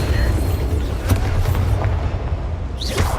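Bombarda explosive spell in Hogwarts Legacy, with a few booming blasts and sharp cracks over a rumbling game backdrop and some voices, closing on a whooshing flare.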